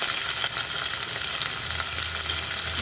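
Onions fry in two ladlefuls of hot oil in a home kitchen, giving a loud, dense, continuous sizzle with faint stirring scrapes, close up and with no talking.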